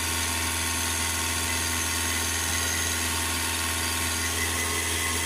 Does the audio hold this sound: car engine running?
yes